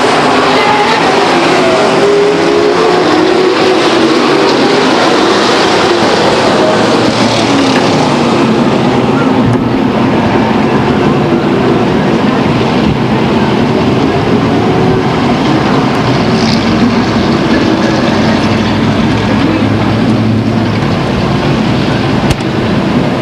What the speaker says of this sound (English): Thundering horsepower down the front stretches.